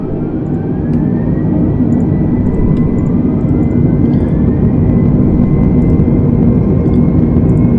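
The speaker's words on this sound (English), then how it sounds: "Let's throttle up and get out of here." Airbus A320neo engines in a flight simulator game throttle up for takeoff from Los Angeles, a loud, steady low roar and rumble with a faint rising whine building over several seconds, and no one speaking.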